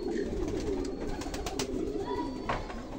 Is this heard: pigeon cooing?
yes